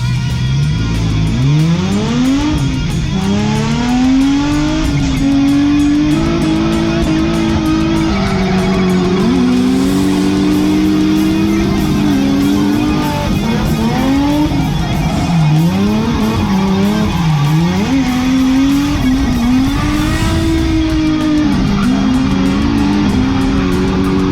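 A race car built on a $25k budget drives on a track, its engine roaring loud and continuous with rising and falling revs through shifts and corners, and tires squealing at moments.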